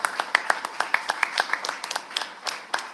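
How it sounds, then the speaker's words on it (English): Scattered hand claps in an irregular patter at a school class reunion evening of reflections and cocktails, close and moderately loud, with voices mixed in. "Round of applause."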